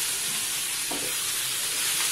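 Onions sauté in a pan, a continuous close sizzle and hiss with a faint scrape of stirring around the middle, and no voices.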